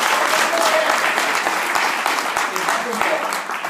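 Audience applause at a live stand-up comedy show, a steady, dense wash of clapping that stays loud throughout with no pauses.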